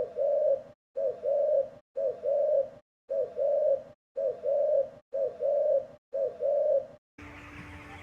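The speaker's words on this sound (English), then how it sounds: "It's a pigeon, always flying around town." A pigeon coos in a steady series of seven soft, rolling calls evenly spaced about a second apart, close and alone, before the sound cuts to a brief different background.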